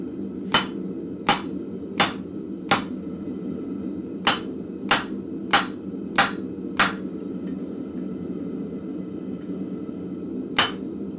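A blacksmith at the forge strikes a drift to cut through hot metal, giving about ten sharp, ringing hammer blows in a loose rhythm, then a pause and one final blow, close and clear over a low shop hum.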